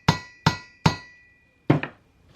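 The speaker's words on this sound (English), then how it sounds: "you put the driver there and you just tap it" Three sharp metallic taps of a driver tool on a valve during a Supra turbo cylinder head assembly in a steady rhythm, then a pause and two quicker taps, ringing briefly, close by with no talking.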